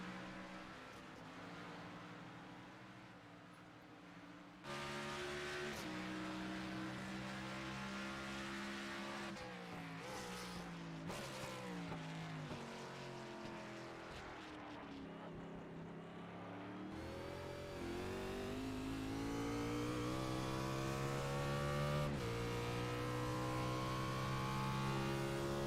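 Race cars at speed on the Charlotte Roval road course in a NORA B Series event, engines revving and shifting through gears, with loud passes and rising and falling drones that swell louder toward the end.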